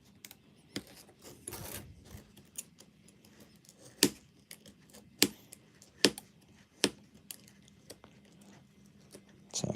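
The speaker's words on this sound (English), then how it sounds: "So excuse me making the table wobble because it's trying to slice through this emery board" A scalpel saws through an emery board on a tabletop, giving sharp, separate scraping clicks and knocks at an irregular pace, close and fairly loud over a quiet, rustling background.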